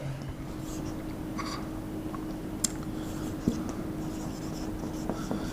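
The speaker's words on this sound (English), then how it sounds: "So for example, I will write one more." Marker or chalk scratching steadily across a board during an English grammar lesson, a continuous close writing sound with a few small taps and clicks, no talking.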